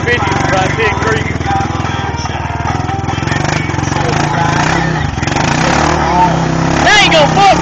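A Honda Rubicon ATV engine roars steadily at high revs throughout, with a rough, buzzing exhaust note and rising pitch sweeps near the end as the throttle opens, its exhaust having been full of water.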